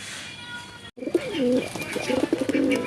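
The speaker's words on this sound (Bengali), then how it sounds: "একজোড়া কোয়ালিটি সম্পন্ন কাগজি কবুতর আপনাদের দেখাচ্ছি" Kagzi pigeons coo close by in soft, low, rolling calls, repeated several times after a brief pause.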